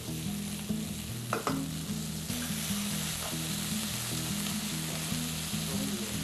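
Beef pieces sautéing in a pan for stroganoff, a loud, dense sizzle running continuously at close range, with a couple of brief stirring knocks and no talk.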